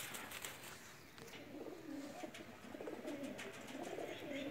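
Nil dum pigeons, home-bred young flying birds in Pakistan, coo and flutter softly in a loft, their low murmuring calls continuous and fairly close amid light background rustle.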